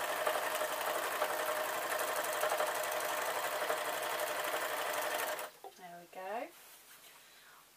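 Sewing machine stitching an off-the-shoulder dress made from the same fabric as its lining, a steady fast whirring run for about five seconds that stops abruptly, followed by a brief spoken remark.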